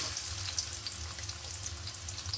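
Chopped onion frying in hot oil with cinnamon and bay leaf for a snake gourd stir-fry, a steady close crackling sizzle running throughout without any talk.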